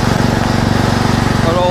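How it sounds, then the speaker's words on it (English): Husqvarna lawn mower cutting grass on outdoor pitches, its engine droning steadily and close with a fast, even pulsing throb throughout. "I'm going to get the mower back on."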